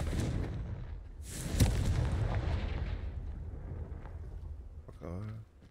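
A Confringo explosive spell cast in Hogwarts Legacy bursts with a sharp blast, then a long rumbling roar that slowly fades, followed by a short, fainter crackle near the end.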